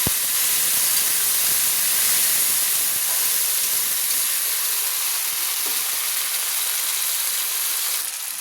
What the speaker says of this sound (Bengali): একটা বড় সাইজের টমেটো পেস্ট করে রেখেছিলাম, দিয়ে দিলাম। দিয়ে ভালো করে তেলের সঙ্গে কষিয়ে নিচ্ছি।